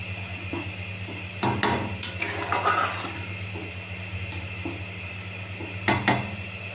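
Lentils tip into spiced oil in a cooking pan, bringing a few clanks and scrapes of metal utensils against the pan over a faint hiss and steady background hum, with two louder clattering bursts.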